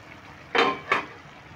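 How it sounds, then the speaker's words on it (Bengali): A pot lid comes off a pot of chal kumro ghonto cooked with gobindobhog rice and moong dal, giving two short, close metallic clanks a fraction of a second apart against a quiet kitchen background. "এবার আমি ঢাকাটা খুলে দেখে নিচ্ছি কতটা হয়েছে।"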